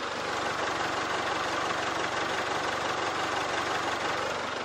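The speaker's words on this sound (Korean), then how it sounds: "엔진 소리도 정말 정숙합니다." An imported sedan's engine idles steadily and smoothly up close with the hood open, a constant low hum with a faint ticking texture and no talking.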